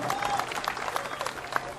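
Clapping from the audience at a mushaira poetry gathering, a moderate spread of hands with some distinct claps, mid-distance and fairly steady, with a faint thin tone running through.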